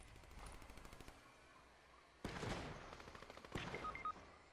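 Gunfire in Fortnite Chapter 4 Season 1: rapid bursts of shots, a quick rattling string at first, then two louder, sharper volleys after a pause, fairly close and punchy, with no talk.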